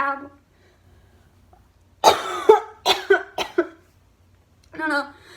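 A burst of several sharp coughs and throat clearing, close and loud, with brief speech before and after.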